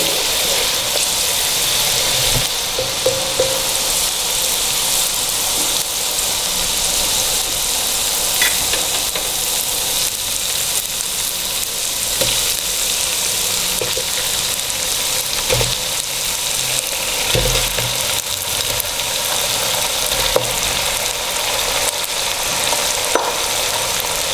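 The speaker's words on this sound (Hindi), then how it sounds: "साथ ही इसके अंदर हम डाल देंगे चिकन" Chicken frying in a pot for deghi white korma, a steady, loud sizzle and crackle that runs throughout, with occasional stirring scrapes and pops.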